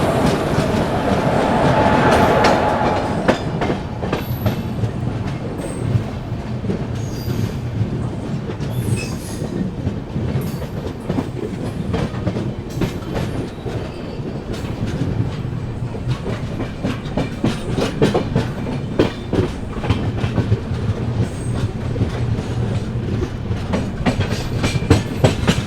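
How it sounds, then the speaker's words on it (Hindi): Andhra Pradesh Express superfast passenger train pulling out of Balharshah railway station, heard steadily throughout with rhythmic clickety-clack of wheels over rail joints, rumbling wagons and occasional wheel squeal, fairly loud and continuous with no talking. "चलिए निकल चुकी ट्रेन अपनी दोस्तों बल्हारशाह रेलवे स्टेशन से"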